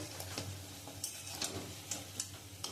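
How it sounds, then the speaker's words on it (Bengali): Potato chops (aloo chop) frying in oil on low heat, a quiet, soft sizzle with small irregular ticks and pops scattered through it, close and faint, no voices. "আমি একদম অল্প আঁচে আমি এটা ভাজবো"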